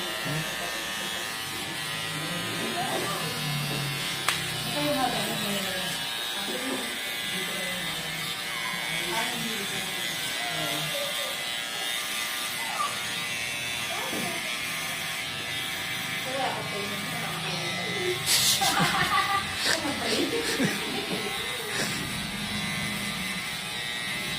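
An electric shaver buzzes steadily and continuously throughout, loud and close, with a brief harsher burst near the end. People talk over it.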